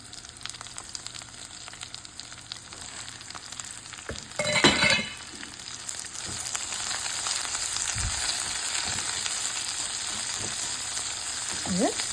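Ridge gourd sautéing in a pan as a side dish for dosa and idli, a steady close sizzle broken by scraping stirs and one louder clatter near the middle, with no talk.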